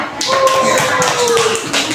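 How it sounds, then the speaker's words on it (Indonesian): Schoolchildren in a classroom clap for classmates who read out their group's results: a steady, dense patter of many hands, fairly close and continuous for the whole stretch, with a faint thin tone drifting underneath. "kasih dulu tepuk tangan untuk temannya yang sudah ke depan dan membacakan hasil kelompoknya"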